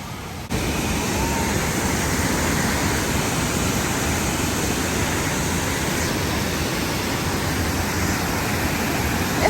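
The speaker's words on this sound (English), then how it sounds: "It's a bunch of waterfalls." Several waterfalls rush in a natural setting, making a loud, constant broadband roar of falling water that starts abruptly after a short quiet moment and holds steady throughout, with no voices.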